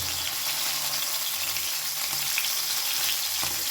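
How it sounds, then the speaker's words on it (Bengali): Pomfret fish frying in hot mustard oil, a steady close, loud sizzle and crackle filling the whole stretch without pause, with no voices. "তেল গরম হয়ে গেছে এবারে তেলের মধ্যে আমি এই পম্পেটটা দিয়ে দেবো"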